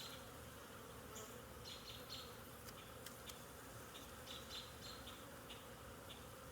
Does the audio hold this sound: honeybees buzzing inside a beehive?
yes